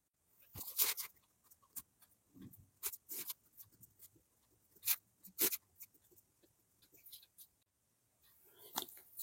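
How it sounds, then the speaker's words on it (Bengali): Pen writing on paper while working out a trigonometry equation, heard as a series of short, close scratchy strokes in irregular bursts with quiet gaps between them, no talking. "আমি প্রথমে বাম পক্ষটি লিখে নিচ্ছি।"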